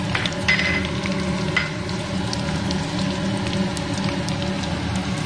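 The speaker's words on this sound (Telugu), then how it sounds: "పచ్చిమిరపకాయలు వేయిస్తున్నాం." Onion and green chillies fry in a pan for a cucumber curry, a close steady sizzle with occasional stirring clicks and scrapes.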